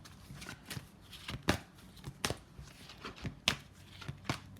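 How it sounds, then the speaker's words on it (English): A tarot deck is shuffled close up in quick, irregular riffling bursts, with soft papery snaps between them and no talking. "I'm going to pull you one card before I shuffle the rest of the deck."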